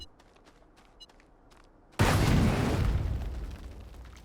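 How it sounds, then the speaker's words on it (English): A gas canister detonated with a stick of dynamite in the space game Astroneer: a couple of seconds of faint ticking, then one sudden, loud, deep blast that rumbles on and slowly fades. "when we explode that with one piece of dynamite"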